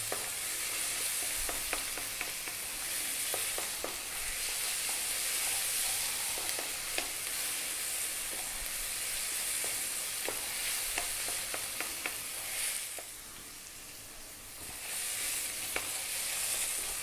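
Pork fried rice sizzles and crackles steadily in a hot pan on high heat, with scattered scraping ticks from a utensil stirring it, continuous and fairly close, with no talking.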